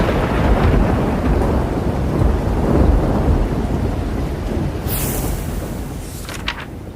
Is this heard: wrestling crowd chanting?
no